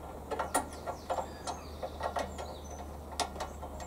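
A bolt with washer and nut tightened by a small black hand wheel on a Hyundai HYM430SPER self-propelled roller lawnmower, giving quiet close ratcheting clicks and plastic-metal creaks in uneven bursts, with no talking.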